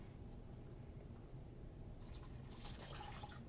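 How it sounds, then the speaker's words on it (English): Water is poured into seed paper pulp, starting partway through as a soft trickling splash over a quiet, steady background. "I'm going to pour in a little bit more water."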